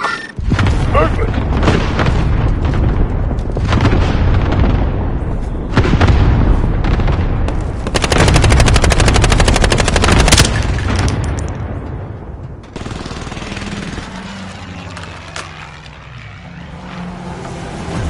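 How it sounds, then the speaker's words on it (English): An allied cluster strike in a Call of Duty Warzone match on Caldera pounds the area with loud, rolling explosions and gunfire, dense continuous booms for about twelve seconds before easing into lower rumbling. "Allied cluster strike arriving."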